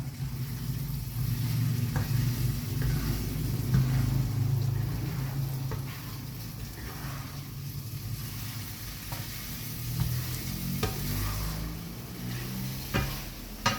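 Egg sizzles steadily in a hot wok as the first step of shrimp fried rice, a continuous close frying hiss with a low burner rumble underneath and occasional scrape or stir clicks of the spatula.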